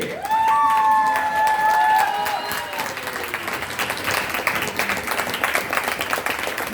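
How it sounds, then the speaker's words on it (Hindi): A crowd at a network-marketing seminar in a hotel hall claps steadily for someone standing up, a busy, sustained applause with a voice speaking over the first couple of seconds. "एक बार इनके लिए जोर से ताली बजाइए।"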